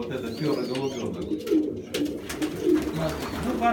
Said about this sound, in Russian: Вот тоже пищалка, видите, вот этот пёрый голубёнок.